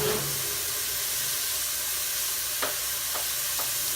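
Onions frying in olive oil in a pan for spaghetti and meatballs, a loud, steady sizzle and hiss with a few stirring scrapes near the end.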